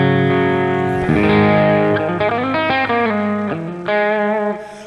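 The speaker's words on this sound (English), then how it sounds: "it really gives you a wonderful, warm distortion" An electric guitar plays several distorted chords and sustained notes through a warm distortion preamp in STL AmpHub amp software. The tone is loud and up close, with ringing decay, and no voice is heard.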